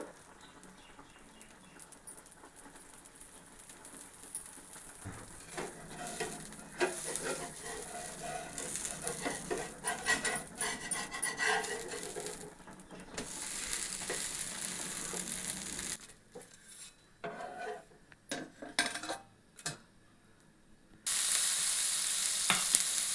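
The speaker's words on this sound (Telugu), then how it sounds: "ఫస్ట్ ఈ దోశ పోసేసి మళ్ళీ ఎగ్ దోశ పోస్తాను" Dosa batter sizzles on a hot pan for an egg and onion dosa breakfast, a steady close frying hiss with brief scraping and stirring noises, rising and dropping in bursts.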